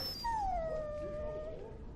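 A warhound in the video game Dragon Age: Origins lets out a long, high, drawn-out whimper that slowly slides down in pitch, loud and close over a low background rumble.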